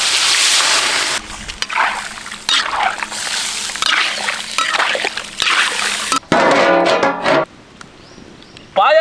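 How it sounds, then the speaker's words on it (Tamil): One litre of water is poured into a pot of turkey with spices for village-style paya, giving sloshing splashes and a brief, close pour amid kitchen clatter. "இப்போ 1 லிட்டர் தண்ணியை ஊற்றி வான்கோழி நல்லா வேக வச்சுக்கலாம்."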